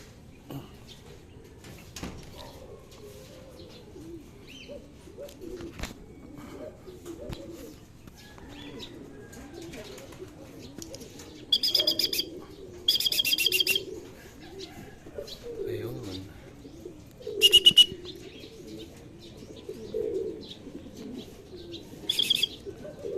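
Racing pigeons at the loft after a 57 km training flight, giving intermittent coos and chirps over a steady background, with short bursts of wing flapping near the middle and end.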